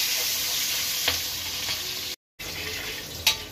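Onion fries in a little oil in a pan, a steady close hiss of sizzling with faint scrapes of stirring, one short break, and no talk.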